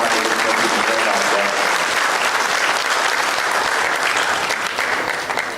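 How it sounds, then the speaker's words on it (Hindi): Loud, dense applause from an audience at a NITI Aayog workshop in Raipur fills the whole stretch, a steady wash of clapping that fades slightly at the end, with faint voices underneath. "आप सभी से निवेदन करता हूं कि जोरदार तालियों के साथ एक बार"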